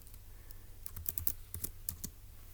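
Quiet typing on a computer keyboard, a short uneven run of crisp key clicks clustered in the middle, close and soft, with no voices.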